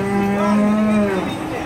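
A Limousin cow at the Sragen livestock market gives one long, loud moo lasting over a second, then tails off into a lower, fading call over steady crowd noise.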